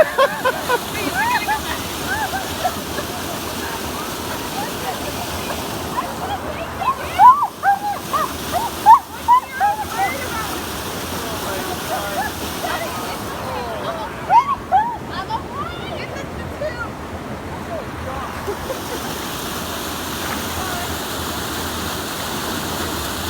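Rushing water roars steadily like a waterfall, with splashes and faint voices now and then over the constant wash.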